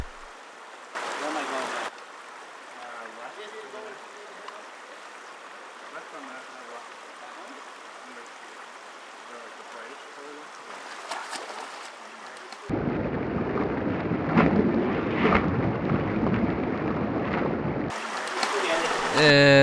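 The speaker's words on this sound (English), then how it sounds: "there's tons of little creeks and rivers to cross" Creek water rushes past a river crossing near the Colorado River on a Grand Canyon hike, a steady close wash that swells into louder, churning splashes toward the end.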